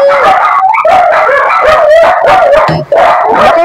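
Several dogs bark and howl together in a loud, continuous chorus of overlapping yelps and drawn-out wails, close to the listener, with only a brief pause near the end.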